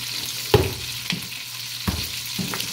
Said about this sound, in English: So we just halved them, putting them in. And we're just gonna mix them up